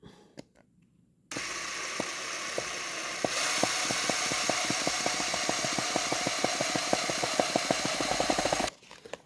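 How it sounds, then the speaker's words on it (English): A power drill drives hardware into a Yaheetech wooden secretary desk, starting after a short quiet pause and whirring steadily with a rapid ratcheting clatter, close and alone, then stopping abruptly. "And then we can drill it right in."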